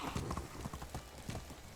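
A horse in the video game Medieval Dynasty gives clip-clop hoofbeats in a steady rhythm, close and moderately loud, with a brief whinny-like sound.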